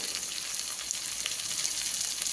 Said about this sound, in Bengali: এই চেরা কাঁচা লঙ্কাগুলো দেবো।